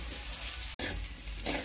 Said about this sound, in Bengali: চিনি গুঁড়োর চালটা আলুর সাথে ভেজে নেব